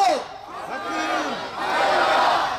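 Crowd of protesters at a candlelight rally chanting a slogan in unison demanding the arrest of Woo Byung-woo, loud, near, with a rising and falling shouted cadence and a swell of voices at the end.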